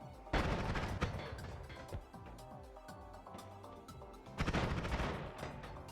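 Rapid bursts of gunfire in Noita, a loud opening volley followed by a quicker, quieter rattle of shots, then another heavy burst near the end.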